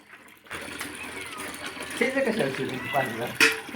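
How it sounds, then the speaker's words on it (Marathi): Water runs steadily from an outdoor tap as a container fills, a continuous rushing hiss that begins after a brief quiet start and carries on under people talking nearby. "इथं बाहेरच्या बाजूला नळ आहे आणि इथून पाणी भरायला लागलेत"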